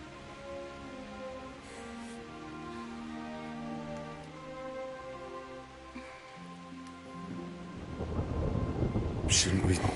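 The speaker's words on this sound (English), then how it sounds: "Not afraid of thunderstorms, are you?" A thunderstorm with rain in the Kingdom Come: Deliverance video game, low thunder rumbling under a layered game soundtrack, with heavier rain and a crackling thunderclap swelling louder toward the end.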